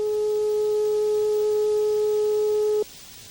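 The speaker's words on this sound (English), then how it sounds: "Listen to the following tones." A hearing test tone: a single steady pure beep held for nearly three seconds, then cut off abruptly into quiet.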